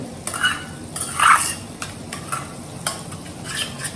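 A spoon stirs paneer tikka masala with dahi in a pan, with scraping strokes and soft clinks in an uneven rhythm over a low, quiet sizzle.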